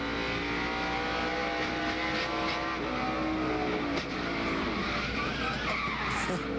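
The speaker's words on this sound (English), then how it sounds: "There he goes by the 45 car, Kyle Petty." NASCAR race cars at the 2001 New England 300 roar past on the banked track, a loud sustained engine drone with rising and falling pitch and tire noise, no speech over it.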